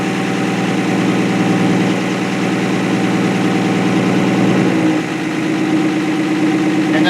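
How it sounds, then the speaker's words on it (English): An engine idles steadily up close with its manual choke partly pulled out, a continuous rumbling drone with a slight shift in pitch and tone midway. "I'm just turning the choke down a little bit more, still letting it idle, still relying on the choke"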